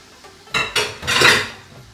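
A metal spatula clanks and scrapes twice against a pan where onions are going in to fry, short close metallic strokes with a quiet pause between.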